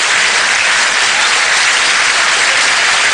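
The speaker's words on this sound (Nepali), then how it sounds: "ठूलो आवाजका साथ हल तालीले गुन्जायमान भएको थियो।" Loud sustained applause fills a hall at the closing of a SAARC summit, a dense even roar of many hands clapping without pause.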